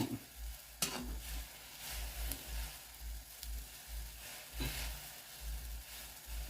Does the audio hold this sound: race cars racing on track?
no